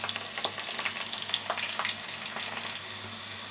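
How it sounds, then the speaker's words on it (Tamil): Food coated in Kashmiri chili powder frying in hot oil, a soft steady sizzle with scattered small pops and crackles, fairly faint, with no voices. "இது நல்லா பொரிஞ்சு வந்துட்டுருக்குது"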